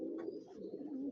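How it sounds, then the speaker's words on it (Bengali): Pigeons landing at a crowded pigeon gathering, cooing close and clear in a short run of low, rolling calls. "দেখেন ভাইরা কীভাবে কবুতর নামতেছে"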